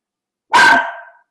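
A single sharp, loud dog bark rings out close by, with a short fading tail and nothing else around it.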